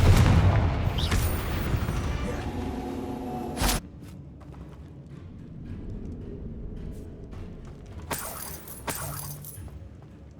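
A fire spell blast from Hogwarts Legacy lands as a deep, loud boom early on. Later come fainter impact cracks and quiet ambient game sound, with no talking.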